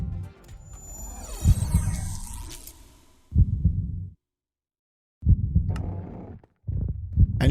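The warden's heartbeat from the Minecraft video game pulses as deep, heavy low thumps in several bursts separated by silent gaps, mixed with higher-pitched game tones near the start.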